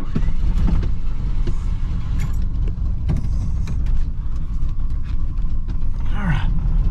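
A 1987 Ford F150 pickup truck, converted from fuel injection to a carburetor, rumbles steadily while running and driving, with a continuous low engine drone, mechanical creaks and clunks, and a brief higher whine near the end.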